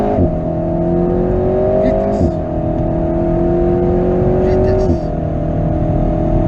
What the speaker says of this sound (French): Et allez, on accélère.